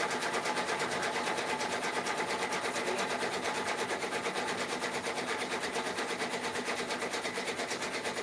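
A multi-needle embroidery machine stitches steadily with a fast, even mechanical whir and rhythmic needle clatter, loud and continuous throughout with no talking.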